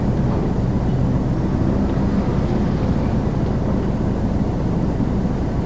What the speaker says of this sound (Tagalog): So ito yung muffler tip na tunog eroplano.